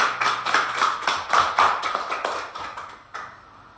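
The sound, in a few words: audience applause for raffle winner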